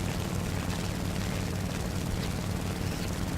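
Propeller aircraft engine in the War Thunder combat game, a dense, steady droning roar with no breaks, close and constant throughout, no voices over it.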